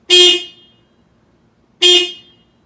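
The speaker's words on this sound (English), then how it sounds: "I need to give a little honk of the OEM one so we can do a comparison afterwards" Two short, loud honks from the stock horn of a Toyota GR Corolla, spaced about a second and a half apart, each a bright blaring tone that quickly fades.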